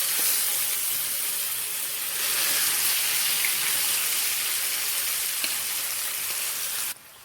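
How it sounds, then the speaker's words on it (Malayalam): Fish shallow-frying in about two tablespoons of hot oil in a pan over a low flame, a steady dense sizzle and hiss that holds evenly before cutting off abruptly near the end. "നമുക്ക് മീൻ വറുത്തെടുക്കാം."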